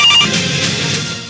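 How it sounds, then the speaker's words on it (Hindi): A telephone rings as a call is placed from a hiding spot during a confrontation over a temple demolition, its tone steady and fairly loud with no talk over it. "छुपकर उस जगह से भागकर एक फोन लगाता है"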